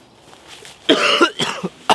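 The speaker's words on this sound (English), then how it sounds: "I have a cough and everything from last night." A person outdoors on a cold, sunny camping morning gives a few hoarse coughs: one long rough burst followed by two shorter ones, close and fairly loud against quiet surroundings.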